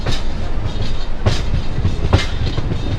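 Local train rumbling into Prinsep Ghat station in Kolkata, a steady loud roar of rolling stock with periodic clattering wheel-on-rail clicks, no talk over it.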